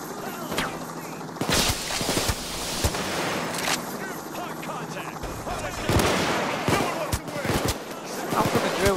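Rapid gunfire from a Payday 2 Crime Wave Edition heist firefight, with repeated sharp shots and bursts over continuous game noise while someone talks throughout.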